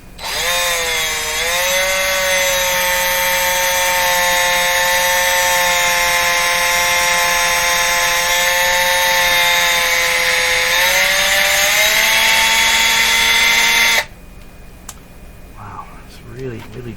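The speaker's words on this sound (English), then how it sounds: "I'm going to grind a little more off here." Edge of a Garrard turntable's rubber traction wheel being ground down during restoration, a loud sustained whining grind with steady pitch that dips briefly, then cuts off abruptly near the end, leaving quiet room noise.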